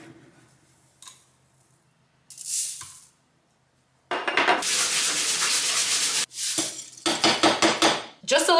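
Plain white rice being rinsed makes loud, gritty bursts of rubbing and swishing, each stopping and starting in short rhythmic surges, with quiet gaps and no voices.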